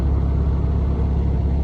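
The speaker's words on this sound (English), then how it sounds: "the engine can make that noise all day long" An old beater car's engine runs steadily, a loud, close, continuous low rumble with no change in pitch and no voices.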